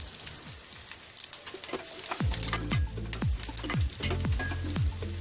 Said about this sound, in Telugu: ఈ ఆనియన్ గోల్డెన్ కలర్ వచ్చేదాకా మనం వేయించుకోవాలి.